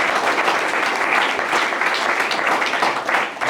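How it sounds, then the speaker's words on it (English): A crowd bursts into sustained applause, a thick, continuous roar of clapping hands that holds steady throughout and stands alone without speech. "We can clap on that one"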